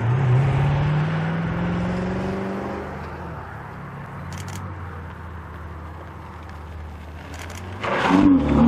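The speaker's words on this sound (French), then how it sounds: "La deuxième Ultima GTR. Franchement, j'adore cette voiture." An Ultima GTR sports car at a Paris rally event, its engine loud and close before the note drops away as it passes, then a fresh rev surges near the end.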